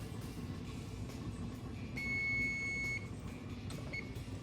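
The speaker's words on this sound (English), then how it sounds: "Timer's about to go off" A kitchen timer gives a steady electronic beep lasting about a second, then a shorter chirp. It sounds over the low rumble of a pot of potatoes and sweet potatoes boiling for a chicken stew.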